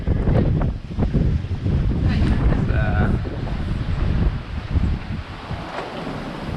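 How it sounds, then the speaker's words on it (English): Strong squall wind roars over a sailboat on the open Pacific, heavy buffeting against the microphone with rushing water and waves underneath, loud and constant, with a voice faintly present. "Looks like we got another squall coming through."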